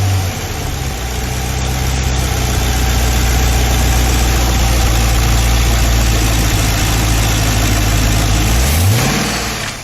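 A GM LS7 V8 crate engine idles with a loud, steady low rumble, holding an even tone throughout before a brief rising blip near the end.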